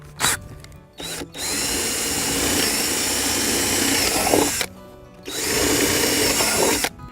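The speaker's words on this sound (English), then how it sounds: "I'm using the largest drill bit that was in the set." A power drill with a large bit whirs loudly through wood of a wine box in two long bursts separated by a short pause, with brief starts and stops.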